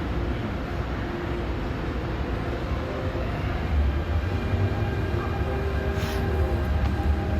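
Hong Kong Airport Express train pulling into a station platform, a steady loud rumble and hum of the rail cars with faint tonal whine, continuous throughout without talk.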